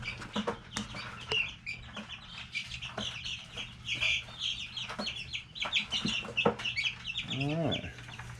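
Young chickens cluck and chirp in a small group, several birds calling in irregular bursts close by over a low steady hum, with a brief rising squawk near the end.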